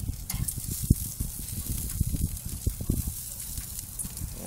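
Bacon sizzles and crackles steadily over high flame on a Char Griller grill, a continuous close hiss with frequent small pops throughout.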